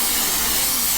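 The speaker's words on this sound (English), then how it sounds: "just spray the hairspray" Hairspray hisses from an aerosol can in one loud, continuous, close-up spray that fills the moment without pause.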